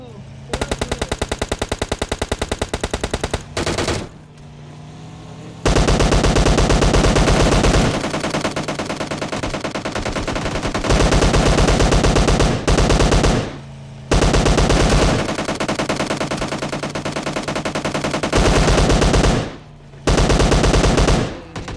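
Rapid automatic gunfire from PUBG Mobile Lite, loud sustained bursts of machine-gun fire separated by brief pauses, close and dominant throughout.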